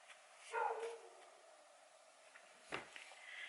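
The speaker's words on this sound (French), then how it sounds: "Moi je sais pas si vous entendez le chien dehors qui aboie" A dog barks outside, heard faintly and at a distance as two or three short muffled woofs in an otherwise quiet indoor room.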